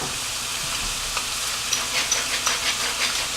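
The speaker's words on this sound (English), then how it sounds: "I just move these around on a medium heat, and I'm going about 4 minutes aside on the flank steak." Flank steak frying in oil over medium heat, a dense steady sizzle with light crackling pops toward the end, close and continuous, no talking.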